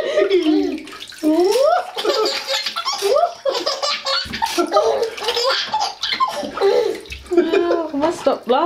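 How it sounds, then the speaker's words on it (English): Water splashes in a bath around a baby, with a child laughing and giggling throughout and an adult voice talking over the splashing, all close and lively. "That looks like water splashed all over him."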